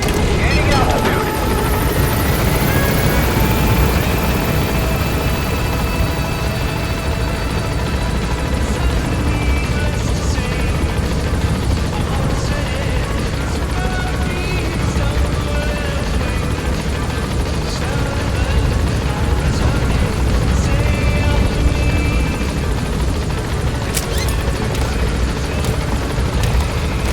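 A helicopter in the video game Metal Gear Solid V gains altitude, its rotor beating loud and continuous throughout, with game voices talking over it.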